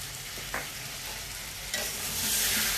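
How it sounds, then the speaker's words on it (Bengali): Elephant foot yam curry with soaked raw chickpeas, turmeric and salt sautés in a pan: a constant close sizzle, a couple of stirring scrapes, and the frying swells louder near the end. "সব একসঙ্গে সুন্দর করে কষিয়ে নেব।"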